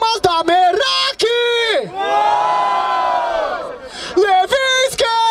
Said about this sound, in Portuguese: Barulho pras rimas da Meraki!